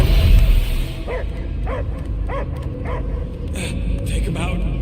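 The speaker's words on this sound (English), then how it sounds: "I hear only barking" A dog in the Guardians of the Galaxy video game barks and yips in a series of short, rhythmic calls, moderately close, over a low rumbling game ambience, with a voice heard at the start.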